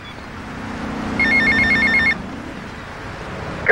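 A payphone rings inside GTA Vice City on PlayStation 2, one burst of bright electronic trilling lasting about a second over a low game ambience, followed by a faint click at the end.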